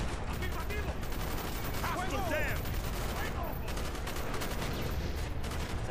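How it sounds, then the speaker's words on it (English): Dense, rapid gunfire from the Call of Duty Black Ops campaign, bursts overlapping continuously and loud throughout, with game voices and shouts mixed in. "we're kinda getting shot to shit here"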